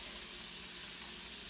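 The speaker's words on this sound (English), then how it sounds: "as you can likely hear, the sizzle effect has begun" Bacon sizzling in a hot pan with leeks and shallots, a steady broadband crackle and hiss that runs unbroken at a moderate level, with no talking.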